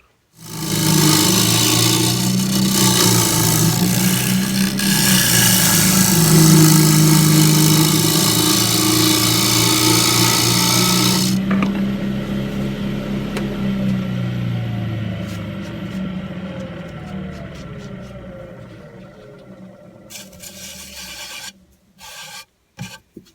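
A wooden yarn bowl spins on a lathe while a gouge undercuts its rim, giving a loud, continuous rasping scrape with a wavering hum; partway through the cut eases off and the tool noise thins out before a few scattered knocks close it.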